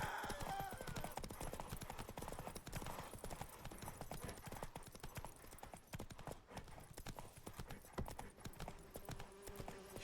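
Roach, a horse in The Witcher 3, gallops with a rapid, dense hoof rhythm that stays loud and close the whole way, over game music and ambience.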